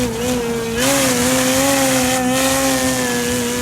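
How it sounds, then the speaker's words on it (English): A Hangar 9 Valiant 20cc giant-scale RC plane hovering on its stock motor and propeller, a loud, sustained tonal buzz that wavers slightly in pitch, close and continuous with no talk. "Something about that avian motor and prop combo makes it sound like it's ripping the sky apart."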